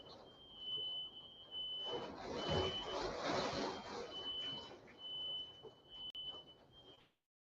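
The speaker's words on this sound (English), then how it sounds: "my damn smoke alarm going off" A home smoke alarm sounds a steady high-pitched tone, briefly interrupted, under a muffled rumble of background noise and voices, indoors and fairly near, ending abruptly.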